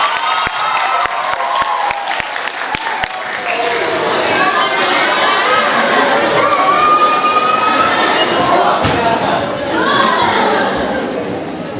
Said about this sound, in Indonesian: kita berikan tepuk tangan yang sangat meriah